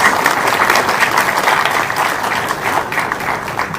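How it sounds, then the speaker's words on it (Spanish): A conference audience gives a loud, steady round of applause after a talk, with many hands clapping in a dense, continuous wash and no voices over it. "por favor le solicitamos despedirlo con un fuerte abrazo. Fuerte aplauso."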